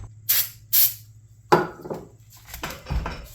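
Two short hissing bursts of aerosol starting fluid spray, close and sharp, into a Poulan Pro PP28 weed whip, followed by clattering metallic knocks and a few more brief sprays.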